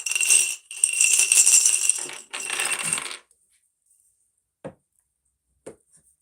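A handful of dice rattle and clatter in a burst lasting a few seconds during a live tarot reading, followed by a few isolated sharp clicks as the last dice settle in the quiet.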